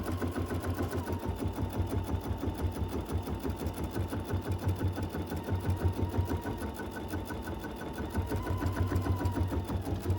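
A quilting sewing machine stitching an edge-to-edge design across a quilt, a fast, steady mechanical whirr with rapid rhythmic needle thumping and a faint motor whine, continuous and close throughout.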